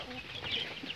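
Chickens clucking softly around their chicks in a backyard coop, a steady mix of close, overlapping bird calls and chirps with no talking.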